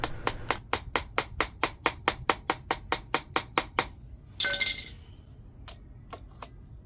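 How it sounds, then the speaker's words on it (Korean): Sixteen rapid, evenly spaced metal strikes ring out, likely an impact driver on a weak Nissan Juke alternator bolt. A burst of clattering follows, then three sparse taps. "그래서 지금 나사 탭 작업을 하는 거거든요"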